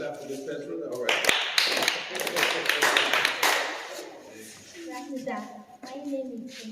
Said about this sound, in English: Okay, you want to clap for Miss Petra